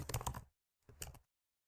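Two short bursts of rapid typing on a computer keyboard, close and crisp clicks separated by a brief pause, with no other sound.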